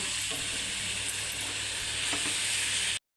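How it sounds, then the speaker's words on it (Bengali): Raw mango pieces stirred in a hot pan, a continuous close sizzle with soft scraping of the spoon, ending abruptly. "আমগুলো সব দিয়ে দিয়েছি, এবার ভালো করে নেড়ে নেব"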